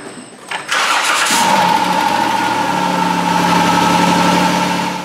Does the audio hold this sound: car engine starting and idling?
yes